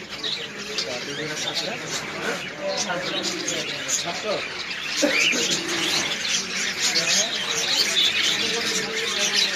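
A budgerigar gives short chirps and squawks while a ring is fitted on its leg, the bird calls scattered and fairly faint beneath a person talking nearly the whole time.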